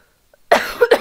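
A short cough fit of two or three quick, close, harsh bursts into a microphone, breaking a near-silent room.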